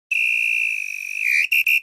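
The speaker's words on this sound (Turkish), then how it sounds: "Ve son düdük." Referee's final whistle ending a football match: one long shrill blast that wavers, then two quick short blasts, loud and close and heard alone.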